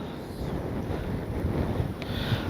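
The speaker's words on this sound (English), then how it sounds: "It's just too windy." Strong gusts buffet the microphone at an RC model jet flying field, a continuous low rumbling roar that swells and dips unevenly with no other sound standing out.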